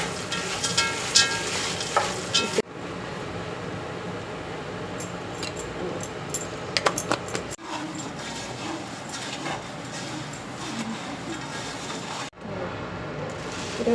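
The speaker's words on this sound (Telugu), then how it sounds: "ఇందులో కొద్దిసేపు బాగా కలబెట్టాలి." A puffed rice mixture is stirred in a heavy-bottomed pan, with dry rustling, light metallic clinks and a faint sizzle, broken by a few abrupt cuts.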